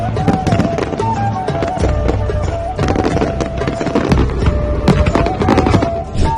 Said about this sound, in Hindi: दिवाली पर इतने पटाखे क्यों फोड़े जाते हैं?